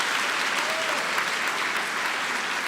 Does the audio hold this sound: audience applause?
yes